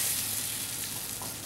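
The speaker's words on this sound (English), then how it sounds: "I'm going to add some butter to the skillet." Butter melting in a skillet over medium-low heat for a breadcrumb topping, giving a steady, soft, close sizzle with a faint hiss that holds evenly throughout, no voices.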